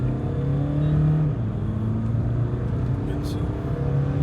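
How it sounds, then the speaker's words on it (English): Engine of a VW Vento 1.5 TDI with a fault after overheating, a steady close droning hum inside the car as the turbo comes in, the tone shifting slightly with no talk over it. "now turbo is kicking in."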